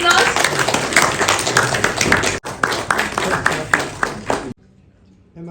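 Audience at an award ceremony clapping in a fairly close, dense burst of claps that runs several seconds, with voices mixed in, before stopping abruptly into near silence.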